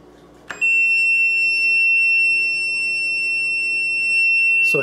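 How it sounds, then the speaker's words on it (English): A steady, loud electronic beep sounds from an iDoo 7-pod indoor garden warning of low water, starting abruptly and holding as a continuous high tone for several seconds. "here is the beep you can see when the water level is low"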